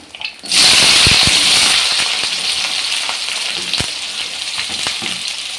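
Cumin, mustard seeds, curry leaves and onions hit hot oil with a sudden loud sizzle that stays strong and steady, with faint seed pops and a few utensil clicks.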